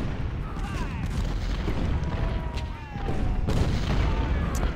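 Cannons in a Civil War strategy video game fire a heavy barrage: dull booms roll over each other against a constant low rumble, with faint whistles of passing shells running through it.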